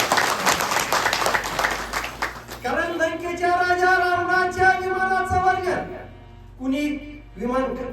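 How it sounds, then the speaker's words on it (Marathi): A gathering at a Ramayana discourse in the Gopalbaba temple breaks into loud applause for a couple of seconds. It then gives way to sustained musical tones that stop and return near the end. "त्यांच्यामध्ये एकदा मोठ्याने टाळ्या"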